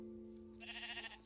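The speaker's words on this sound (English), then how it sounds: "So here's some sheep" A single short sheep bleat in the Minecraft video game, wavering and fairly faint, heard alone over a steady low tone.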